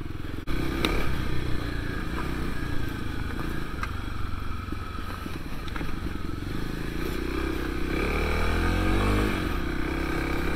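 A 2021 Kawasaki KLX300S dual-sport motorcycle ridden off-road, a steady single-cylinder engine drone with shifting revs, rattles and gravel scrapes, recorded close from the bike.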